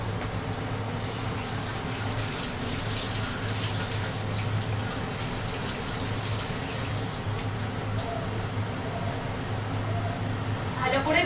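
Water runs from a tap over eggplant and potato pieces being washed for a fish and vegetable dish, a steady, even rushing flow that carries on unbroken for the whole stretch.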